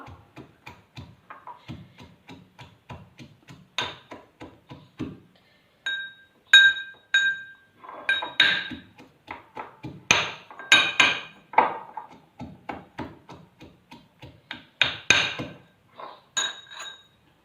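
Metal mortar and pestle pounding pickle paste for a carrot and turnip pickle: dozens of sharp, ringing metallic strikes in quick, uneven bursts, close and clear, with brief pauses between runs.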